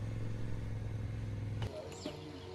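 Yamaha Ténéré 700 adventure motorcycles ride along in South Africa, a steady engine drone that cuts off abruptly partway, leaving quieter rattling and clatter.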